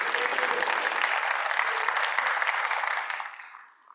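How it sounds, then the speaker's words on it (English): A room full of people applauds at a secular summit gathering, a thick, even round of clapping that holds steady and then fades out quickly. "Let's give Shadow Rock UCC Church a big round of applause"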